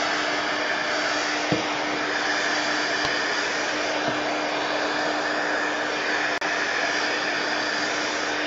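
A heat tool blows hot air at a wet mixed-media craft piece, producing a loud, continuous fan-like whoosh with a faint tonal hum and a few small clicks, heard alone.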